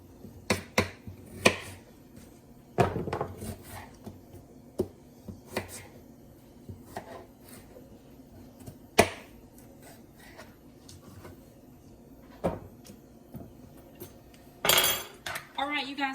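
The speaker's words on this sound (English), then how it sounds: "So I'm going to cut those pieces off." A knife cuts up butternut squash in a home kitchen, with sparse, sharp knocks and clacks on a board scattered through a quiet stretch.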